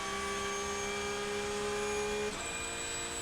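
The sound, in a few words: Porsche 911 GT3 Cup engine accelerating on straight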